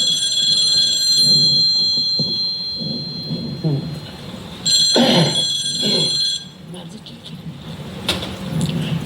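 An old landline telephone rings in two bursts with a pause between them, set against a rumbling, noisy background.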